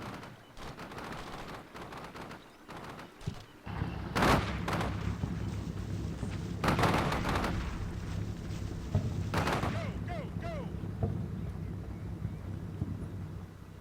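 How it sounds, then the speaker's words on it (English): Blasts and gunfire from a military combat video game mission set on the Black Sea come as several broad, booming bursts over a constant low rumble, fairly distant and moderately quiet. "That was indeed a huge explosion."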